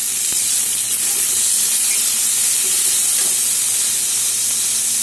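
Fried onion and chopped large tomato sizzle steadily in a hot pan, a loud continuous hiss with no talking.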